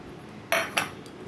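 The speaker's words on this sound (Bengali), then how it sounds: "তো এখন আমি ছানাটা বেটে নেব।" Utensil working chhana (cottage cheese) in a bowl: two short, bright metallic scrapes or clinks close by, separated by brief quiet, with no talking.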